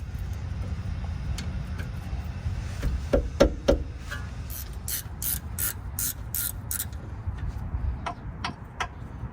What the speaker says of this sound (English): it's a bit cramped on this area, so I'm going to go ahead and just use a wrench here